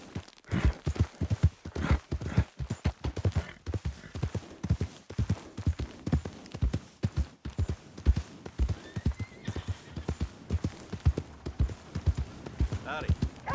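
Hooves clip-clop in a steady walking rhythm throughout, close and crisp, with a horse whinny and voices mixed in, in the video game Red Dead Redemption.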